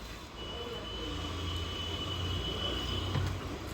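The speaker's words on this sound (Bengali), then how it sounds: "সামনের এই ট্রেনটা ধরবো আমরা, রানাঘাট লোকাল" A Ranaghat local passenger train rumbles steadily nearby with a low mechanical drone and a faint high whine from the wheels, no talking.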